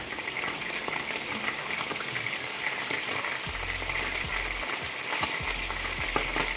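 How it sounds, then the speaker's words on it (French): Vegetables cooking gently in a pan over low heat, a soft steady sizzle with faint crackles and a low hum running underneath, no voices. "Je baisse le feu pour laisser cuire tout doucement."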